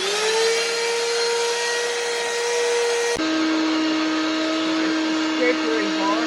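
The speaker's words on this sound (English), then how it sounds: "and then I'm going to start vacuuming." Continuous loud motor hum of a vacuum cleaner with a scraper attachment fitted, running steadily inside a car interior, pitch dropping slightly partway through as the load changes.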